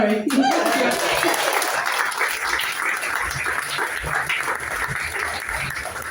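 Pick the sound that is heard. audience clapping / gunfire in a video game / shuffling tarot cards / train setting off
audience clapping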